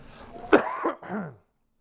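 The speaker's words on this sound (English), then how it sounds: "Please don't cough on my stuff." A sharp, raspy cough bursts out, followed quickly by a second, rougher cough, then silence.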